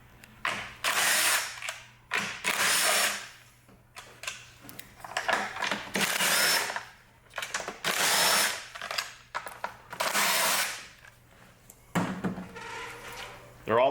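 Power drill backing out 10mm-headed screws from the blower shroud of a Honda engine, several loud whirring bursts of a second or two each separated by pauses, close by, with a voice talking between them.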